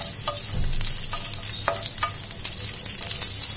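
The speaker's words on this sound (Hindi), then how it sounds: "तो ये बड़े टुकड़ों में हमने ये प्याज को काट दिया है, इस तरीके से डाल देंगे और इन्हें 1 मिनट के लिए ऐसे हमें सॉटे कर लेना है" Big pieces of chopped onion sauté in a hot pan, a steady close sizzle broken by repeated scraping and clinking strokes as they are stirred, with no talk.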